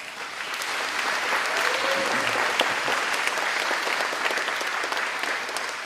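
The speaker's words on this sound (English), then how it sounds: "You can give them a round of applause." An audience at a building dedication ceremony gives a sustained round of applause, dense and even for about six seconds, with faint voices mixed in.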